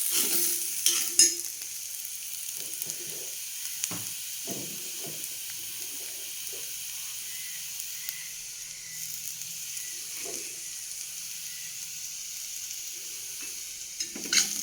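Vegetable fry with turmeric powder and salt stirred in a pan over a stove, a steady sizzle running throughout with scattered scraping clatters of the spoon, fairly close and loud, no talking.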